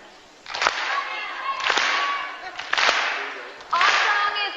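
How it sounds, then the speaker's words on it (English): An audience claps along in sharp, loud bursts at a steady beat during a 2008 Taylor Swift appearance, the claps standing out close with some crowd noise between. "all right, we'll get it clapping."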